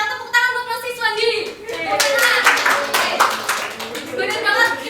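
Students in a classroom clap together over a teacher's voice, a brief burst of children's hand claps mixed with her ongoing talk.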